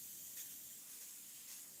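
A paint-loaded airbrush gun hisses in a brief, steady test spray, a soft continuous airy rush with two slightly stronger puffs.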